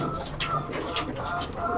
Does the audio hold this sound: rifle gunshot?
no